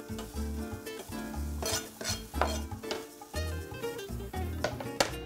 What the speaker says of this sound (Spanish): Tengo entonces acá un poco de cebolla de rama picada. Se la voy a adicionar ya al ajo.